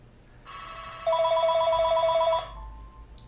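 A telephone rings indoors in one trilling electronic burst of about a second and a half, a bright, repeating warble that starts abruptly and cuts off, standing out clearly over a quiet room hum with no talk.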